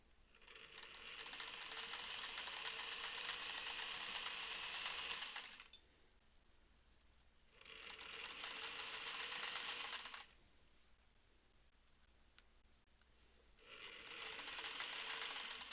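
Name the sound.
sewing machine stitching quilt seams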